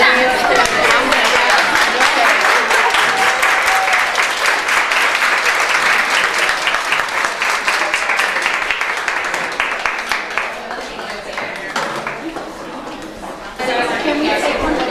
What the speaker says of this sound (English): give them a round of applause one last time